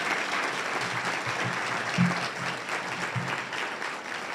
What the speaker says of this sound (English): can we give a round of applause to our students?